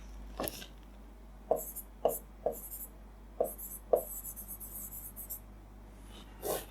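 A marker scratches on a board during a math lesson on bank-exam data problems: a handful of short, separate writing strokes, quiet against a low hum.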